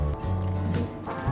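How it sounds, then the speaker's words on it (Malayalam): Water goes into a bowl of gram flour mixed with a pinch of baking soda and salt, giving a brief soft dripping and squishing as the batter is stirred, close and quiet. "കടലമാവിലേക്ക് നമുക്ക് ആവശ്യത്തിനനുസരിച്ച് വെള്ളം ഒഴിച്ച് നമുക്ക് നന്നായിട്ട് കലക്കിയെടുക്കാം"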